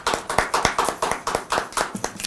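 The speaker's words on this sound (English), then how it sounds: "Can we just give him a clap?" Hands clap in a quick, uneven burst, a small group applauding at close range for a couple of seconds.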